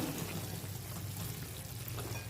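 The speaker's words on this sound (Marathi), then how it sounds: "तर अगदी तीन ते चार चमचे इथे आपण पाणी ॲड करायचं आहे" A few spoonfuls of water poured into jaggery melting in a pan for dry fruit chikki, giving a brief, close, continuous hissing splash that fills the whole moment.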